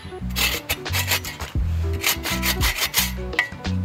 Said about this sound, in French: La fameuse scie Boréal 21